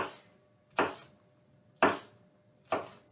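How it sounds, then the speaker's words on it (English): A knife chops vegetables sharply on a cutting board, three distinct hits spaced about a second apart, close and clear. "So I just kind of chop them down like that."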